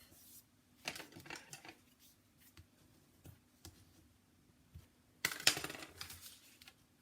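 Paper card stock is folded in half, giving scattered soft crinkles and sharp creasing taps close up in a quiet room, with a louder pressing rustle near the end.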